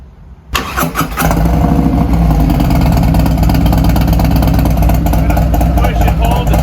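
A 2023 Harley-Davidson CVO 121 motorcycle on a dyno with a D&D billet cat exhaust cranks briefly, fires up loudly and settles into a deep, loud, steady idle rumble.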